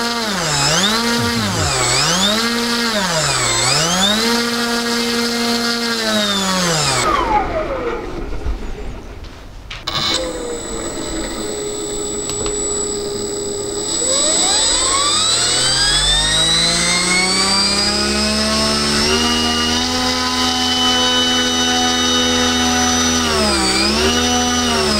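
LotusRC T380 motor spinning a two-bladed prop, whining loudly and steadily with pitch sweeping up and down as it winds up to about 7,100 RPM, then briefly cutting out before spinning back up to a sustained high tone.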